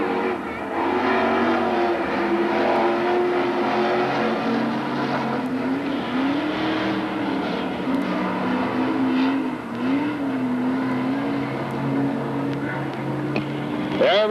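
Super stock race cars roar around a dirt oval at Magic City Speedway in Billings, Montana, their engines droning loud and continuous with a wavering, rising and falling pitch as the pack runs through the turns.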